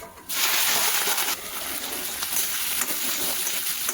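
Chopped chili and whole spices (fennel, fenugreek seeds, asafoetida, nigella and coriander seeds) hit hot oil with a sudden, loud, hissing sizzle that jumps in and keeps crackling steadily.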